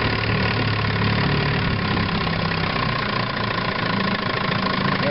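A 1958 Evinrude Sportwin 10hp outboard motor runs at a steady idle. The continuous, close-up engine drone has a slight knocking texture and no pauses or speech.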